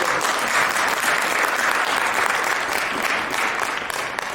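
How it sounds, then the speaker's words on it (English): Sustained applause from an audience, dense and steady clapping that holds at full strength for several seconds. "Can we give another round of applause"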